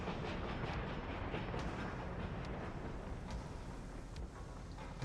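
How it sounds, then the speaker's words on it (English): A train approaches on the rails in a railway-building video game set in Siberia, heard as a steady, loud rolling rumble with faint clickety-clack that holds through the whole stretch, no voices over it. "But a train is heading this way right now."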